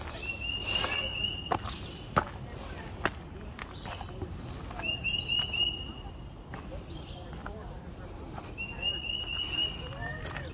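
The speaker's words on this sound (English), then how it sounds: "Did you hear those birds?" Birds sing in a wooded nature preserve with repeated high, thin phrases at a moderate distance, over footsteps on a trail and people talking.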